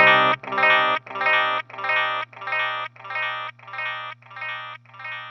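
Guitar notes run through a Boss DD-500 delay, repeating in about nine evenly spaced echoes that fade steadily, each repeat sounding thinner as more low end is cut away, over a sustained low tone with no talking.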